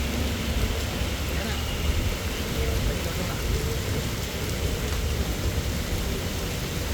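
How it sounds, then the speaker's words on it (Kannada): Heavy rain with thunder and strong wind pours as a dense, continuous roar, heard under a voice narrating over it. "ಗುಡುಗು ಸಹಿತ ಭಾರೀ ಗಾಳಿ ಮಳೆ ಸುರಿದಿದೆ"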